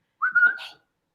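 Someone whistles a single short, clear rising note that ends with a brief breathy flourish, alone and close in a quiet room.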